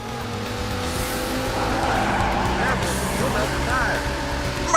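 Tires squeal and an engine roars in a Sega Saturn racing video game, a continuous loud skid sound with engine drone, with talk over it.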